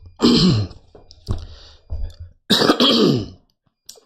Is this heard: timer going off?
no